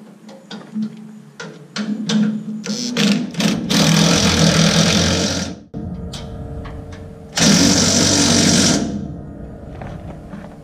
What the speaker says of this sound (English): But just gotta tighten these bolts up.